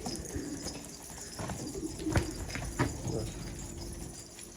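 An old-line purple Istanbul pigeon cooing nearby in soft low calls, with a few sharp clattering knocks and a person talking over it.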